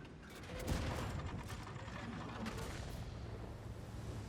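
Heavy tank cannon fire in a World of Tanks–style game, the E 65 Zwilling, with a loud boom near the start followed by rumbling engine and battle noise that continues steadily throughout.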